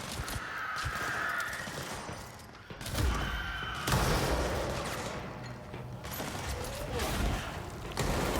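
Gunfire in the video game Control: bursts of shots and mechanical game effects crackle through a busy mix at moderate level, with brief breaks between volleys.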